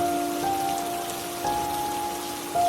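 Steady rain pours down onto a surface, a continuous close patter with a low sustained tone humming underneath.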